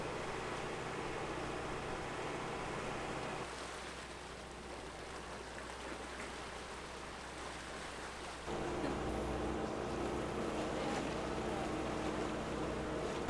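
Low, steady engine drone of an old catamaran's motor running far offshore at sea, with wind and water noise around it and a shift in tone partway through.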